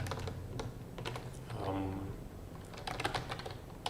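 Keys on a computer keyboard tapped to enter a file name while exporting chess tournament data, a quick run of light clicks with a pause in the middle where a low hum rises, then another burst of keystrokes.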